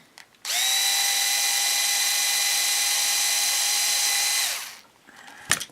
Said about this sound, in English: I'm going to drill through this one.